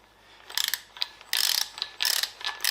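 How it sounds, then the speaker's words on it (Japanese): A digital torque wrench ratchets while tightening the limited-slip differential of a Mazda RX-7 FD3S under restoration, giving several short bursts of sharp, rapid metallic clicks close by, separated by brief pauses. "で使うのはこちら、デジタルのトルクレンチ。"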